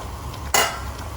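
A single short scrape of a spoon through chicken simmering in yogurt in a pan, a brief bright burst over a low steady bubbling, near and moderately loud, no voices.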